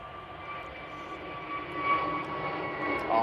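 An airplane departs Manchester Airport, its engine a steady distant roar with a thin high whine that swells gradually louder as it climbs away.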